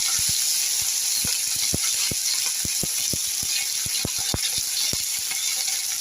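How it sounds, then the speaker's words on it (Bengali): Fish frying in a pan crackles with a steady high sizzle, broken by many quick, sharp pops and spits at an uneven rhythm. It stays close and fairly loud throughout, with no talking. "তো মাছটা ভেজে নিই বন্ধুরা"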